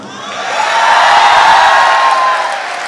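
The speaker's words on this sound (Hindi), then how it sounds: "जिसका नाम ही यहां पर पूरे सदन में तालियों की गूंज उत्पन्न कर देगा" Applause and cheering from an audience fills a hall at a comedy poetry event, a sustained, loud wash of clapping and crowd noise that swells and holds for about three seconds.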